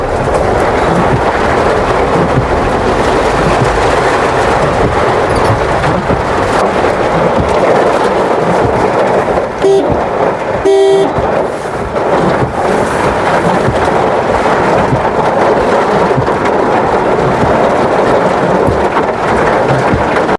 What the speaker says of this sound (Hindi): आप देख रहे थे आगरा में तूफ़ानी बारिश का आलम